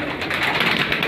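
Teddy Salara pigeons coo in a close, continuous murmur of soft overlapping calls.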